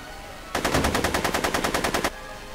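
Machine-gun fire from Tannen in a Back to the Future video game: one loud, rapid burst of about fifteen evenly spaced shots lasting roughly a second and a half, alone with no talk.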